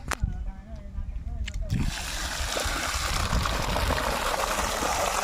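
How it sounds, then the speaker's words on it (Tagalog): A solar-powered 2HP submersible water pump set at 60 feet sends water gushing out in a loud, steady rush that begins partway through, after a few clicks and faint talk. "Ito talaga yung lakas ng pump kung malakas yung tubig."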